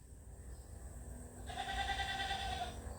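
A goat bleats once at moderate distance, a single drawn-out wavering call lasting over a second against a steady low background hum, with no talk.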